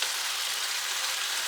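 Vegetables for Caribbean saltfish sautéing in a pan, giving a steady, even sizzle that holds at a constant level throughout, close and alone with no voices.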